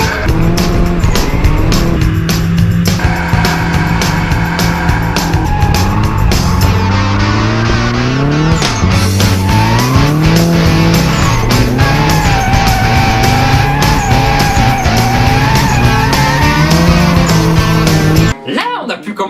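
A turbocharged drift car is heard loud and close with a high, wavering engine howl and rising revs, overlaid with sustained tire squeal and skidding noise, ending abruptly after about eighteen seconds.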